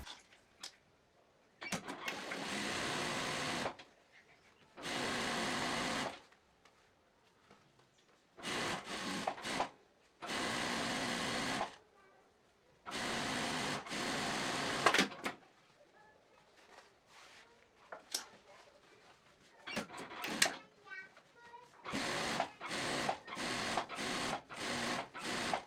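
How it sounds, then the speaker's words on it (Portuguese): A straight-stitch sewing machine runs the waistband seam onto a pair of women's trousers in repeated loud bursts of rapid stitching separated by quiet pauses, ending in a run of short, quick spurts. "a gente vai na reta fazer a costura do cos e a aplicação na calça"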